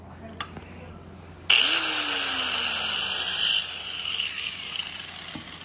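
A side grinder gapping piston rings kicks in abruptly with a bright, steady high-pitched whine that holds for several seconds before easing slightly, close and loud with no talk over it.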